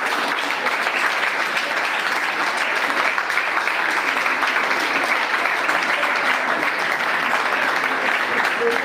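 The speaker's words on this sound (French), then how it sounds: "C'est ça, applaudissons pour le Seigneur." A church congregation applauds in dense, sustained clapping that fills the room at an even level throughout, with no pauses.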